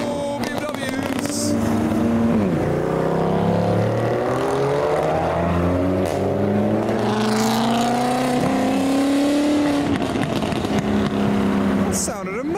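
BMW Alpina engine at a car show, a loud revving roar that climbs in pitch, dips and climbs again over several seconds, with people talking nearby.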